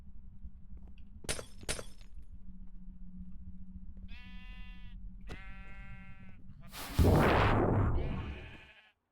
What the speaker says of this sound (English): Oh, come on, sheep.